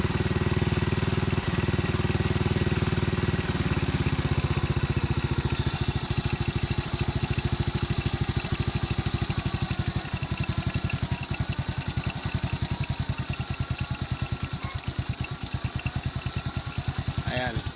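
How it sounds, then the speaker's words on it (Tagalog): A motorcycle engine idles steadily after carburetor tuning, a close, continuous rapid putter with a shift in tone partway through, while someone talks over it. "So kahit nakababa yung minor, ang ganda ng andar, ang ganda ng tunog ng makina."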